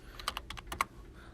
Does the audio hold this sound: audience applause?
no